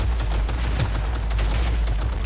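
Rapid gunfire in Cyberpunk 2077 crackles in a dense, continuous burst of shots over a heavy low rumble, loud and close, with no talking.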